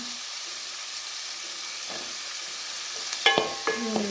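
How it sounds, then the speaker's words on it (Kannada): Sliced onions and green chillies frying in a pan for a carrot stir-fry: a soft, continuous sizzle hisses along, then a few sharp utensil clinks and scrapes come near the end. No one speaks. "ಎಲ್ಲ ಫ್ರೈ ಆಗಲಿ ಸ್ವಲ್ಪ ಒಂದು ಐದು ನಿಮಿಷ ಫ್ರೈ ಆಗಲಿ"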